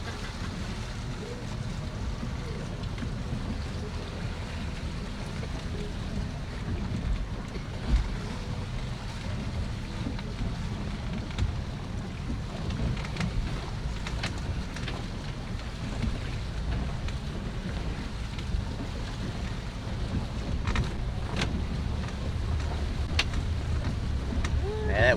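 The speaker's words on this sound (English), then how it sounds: "Yeah, that wind is picking up." Steady wind buffeting a boat on open water near Cape Romano and Marco Island, with a continuous roar of gusts and spray, constant and loud throughout with little change.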